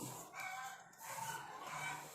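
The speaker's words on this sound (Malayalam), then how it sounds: "കോഴികളെല്ലാം കൂടെ കിടന്ന് പൊക്കുന്നുണ്ട്" Chickens cluck and squawk together at a moderate distance, a busy, continuous flock chatter with no talking, heard outdoors near a kitchen hearth.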